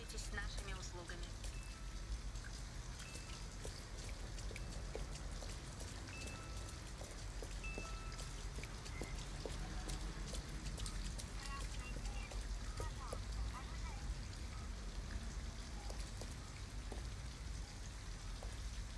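Heavy rain in the video game Detroit: Become Human pours steadily and evenly for the whole stretch, a dense hiss of drops with occasional sharper splashes.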